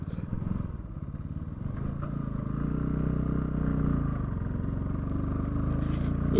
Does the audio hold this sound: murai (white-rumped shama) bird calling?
no